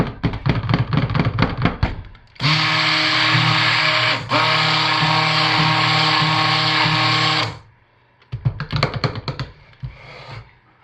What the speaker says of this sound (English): I'm going to go ahead and stick blend these to full emulsion